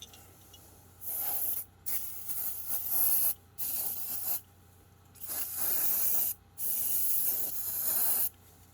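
BW100 contact cleaner sprays onto computer memory socket contacts in six short hissing bursts, each about a second long, with quiet gaps between them.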